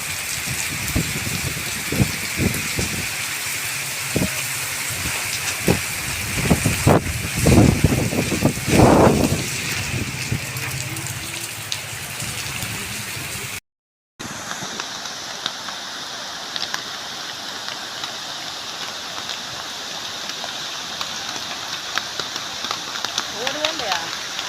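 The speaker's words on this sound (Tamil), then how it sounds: "மழை சரியான மழை மறுபடியும் பிடிச்சிருச்சு" Heavy rain falls steadily at Nelliyampathy in Palakkad, a dense, continuous hiss of drops on surfaces with scattered louder patters, while people talk over it.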